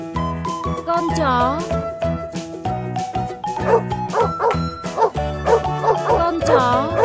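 Repeated short dog barks ring out over a cheerful children's melody, coming in quick clustered bursts with brief gaps, loud and up front in the mix.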